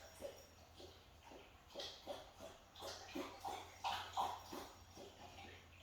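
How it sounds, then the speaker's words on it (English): A dog laps water in a quiet room, a soft, rhythmic series of wet tongue strokes repeating close by for several seconds with no one talking. "know that you are safe and know it is just my dog taking a drink."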